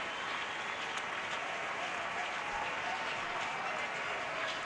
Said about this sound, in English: Wrigley Field crowd on their feet.